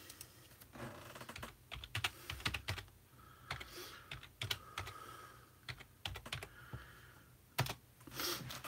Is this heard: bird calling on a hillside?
no